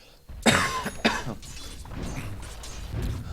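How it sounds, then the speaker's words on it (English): A man coughs twice in quick succession, sharp and close, followed by quieter throat sounds and breathing. "I'm coughing way less than last time"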